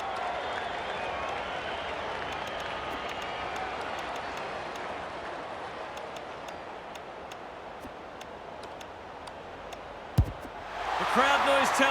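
Stadium crowd noise from an AFL 26 football video game during an online comeback match: a steady, broad roar that holds throughout, with faint clicks over it and a surge of cheering at the end.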